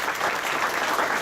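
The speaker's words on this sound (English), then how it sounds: "So let's give Joe a round of applause." An audience at a boxing hall of fame induction ceremony in Atlantic City claps in a dense, sustained burst of applause.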